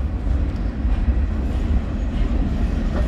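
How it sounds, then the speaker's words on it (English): A work train rolls past on the rails, a loud, close, continuous low rumble of wheels and cars with no voices over it. "we've got the work train coming"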